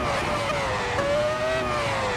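A non-modern Formula 1 car's 3-liter V10 engine screaming on track, a sustained high-pitched wail with a rising, slightly wavering pitch, loud and close for a couple of seconds.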